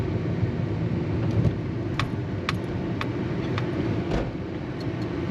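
A manual transmission car rolls in neutral across a parking lot with a steady low engine and road rumble, and faint clicks and light knocks sound over it.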